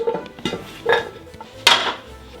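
Thick-cut bacon lardons, about a centimetre thick, drop into a frying pan in a few separate clattering bursts, the last one the loudest, with no talk.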